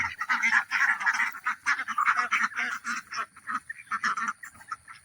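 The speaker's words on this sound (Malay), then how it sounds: "Rasanya ada itik jantan yang sini." A group of egg-laying ducks, including a green-headed drake, quacks in rapid, overlapping bursts while being moved into a temporary pen. The calls are close and fairly loud, with short pauses between clusters.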